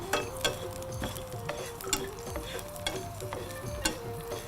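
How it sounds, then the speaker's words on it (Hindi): Dried red chillies and cumin sizzle and crackle in hot ghee close up for a dal tempering, with scattered clicks of a spoon stirring the pan. "घी में लाल मिर्ची डालेंगे इसके तड़के के लिए"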